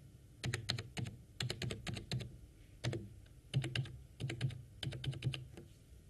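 Username and password being typed on a computer keyboard while setting up a Windows 7 wireless connection: quick bursts of close, crisp key clicks with short pauses between words.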